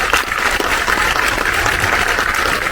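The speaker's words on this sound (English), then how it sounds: "Can we give them a round of applause?" Audience at a conversation event with filmmaker Payal Kapadia giving a loud, dense round of applause, many hands clapping continuously and close.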